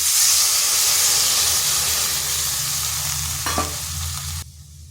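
A bowl of liquid milk poured into a hot pan of shukto, producing a loud steady sizzling hiss close up that slowly fades, with a brief scrape near the end before cutting off.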